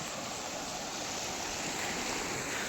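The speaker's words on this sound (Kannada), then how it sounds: "ದನಗನಹಳ್ಳಿ ಡ್ಯಾಮಿಂದ ನೀರು ಎಷ್ಟು ಸ್ಪೀಡಾಗಿ ಬರ್ತಿದೆ ನೋಡಿ" Water from Dandiganahalli dam rushes steadily into Manchenahalli lake, a continuous broad roar with no breaks, heard alone at moderate distance.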